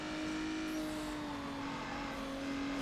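Engine of a tuned street car in Need for Speed Underground drones at sustained high revs under full throttle, a loud, steady whine with a slowly falling pitch and no speech.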